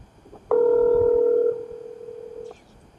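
A telephone rings once, a loud steady electronic tone lasting about a second and then fading to a quieter sustained hum before cutting off.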